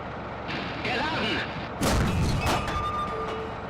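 A tank cannon fires in an armoured-vehicle combat game: a single heavy, close boom followed by a sharp secondary report, set against a steady engine rumble, with someone talking before and after.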